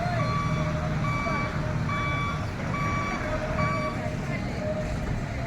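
A bus reversing near the temple at Mahanandi, its backup alarm giving a steady series of evenly spaced beeps over engine rumble and traffic noise.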